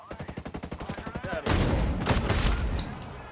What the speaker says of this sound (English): I love the sound of this gun when there's no freaking suppressor on it